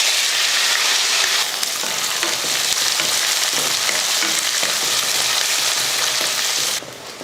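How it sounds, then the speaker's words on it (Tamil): Onions fry in oil with popped mustard seeds and a couple of garlic cloves, a loud, dense, continuous sizzle close up that drops off sharply at the very end, with no voices. "வெங்காயம் நல்லா வதங்கிடுச்சு."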